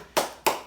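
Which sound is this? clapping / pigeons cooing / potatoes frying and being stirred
clapping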